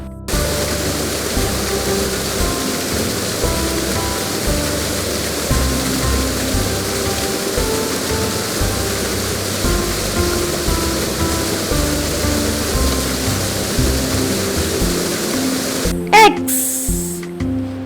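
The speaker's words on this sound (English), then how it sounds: "W is for waterfall." A waterfall pours in a steady, full-bodied rush of falling water that holds constant throughout, with a brief sharp knock near the end and no one speaking.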